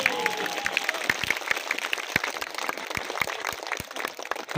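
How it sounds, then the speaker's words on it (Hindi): Crowd applause at an outdoor Chhath Puja gathering, sustained dense clapping with crisp individual claps standing out, steady and fairly loud from start to finish. "देर तक बजनी चाहिए ये तालियां।"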